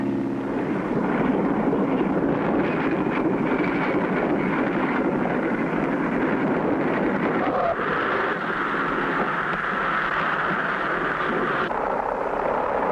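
A small airplane in a 1959 cartoon, its steady engine drone and rushing wind carrying on throughout as it comes in to land at an Alaskan village runway.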